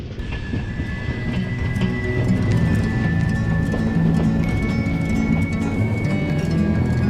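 Passenger train rolling along the Konkan railway line between Kankavli and Sawantwadi, with a steady rhythmic clatter of wheels over rail joints, continuous and close, with a faint whistle-like tone running through it.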